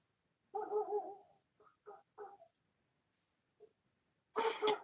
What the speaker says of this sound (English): I don't know if you can hear my dogs or if they're coming through, but man, they are cutting up out there